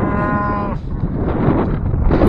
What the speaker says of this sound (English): I could just film the cows all day every day.